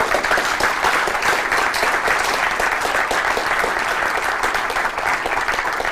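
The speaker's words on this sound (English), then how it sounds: "Should applaud Mike." Full, continuous audience applause at an awards ceremony, loud and even from start to finish with no voices on top.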